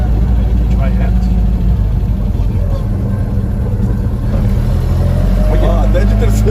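A BMW 320i E21 with MOTEC M4 engine management accelerating hard, a loud low engine drone inside the cabin with people talking over it.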